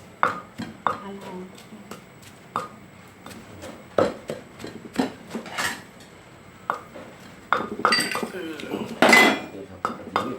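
Repeated sharp pounding knocks in an uneven rhythm as chili and shallots are pounded in a mortar, close by, with occasional clattery clinks, a brief louder flurry near the end.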